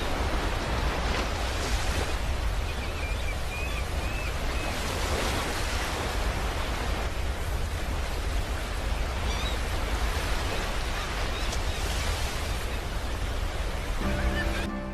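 Steady broadband roar of surf washing onto Kuakata beach in Bangladesh, continuous and fairly loud throughout, with faint bird calls drifting in now and then.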